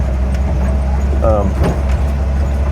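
Jeep CJ5 with a 3-speed transmission crawling a mountain trail in the Cabinet Mountains, a steady low engine drone filling the cab close by, with brief rattles and a voice talking over it.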